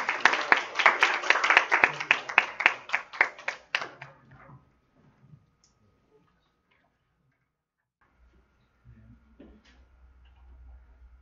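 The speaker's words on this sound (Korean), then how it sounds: "큰 박수로 맞이해주세요" Audience applause welcoming a speaker to the stage at a Korean industry science seminar on rare metals, a dense clatter of claps for about four seconds that stops abruptly, followed by near silence and faint low rumble.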